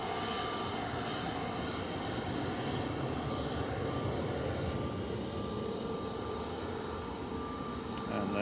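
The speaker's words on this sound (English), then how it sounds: "Ryanair heading off to Dublin, Mandub, EIDHF, flight 555, 737-800" A Ryanair Boeing 737-800 jet departs Manchester Airport for Dublin, its engines giving a sustained, even roar at moderate distance that stays steady for several seconds without voices.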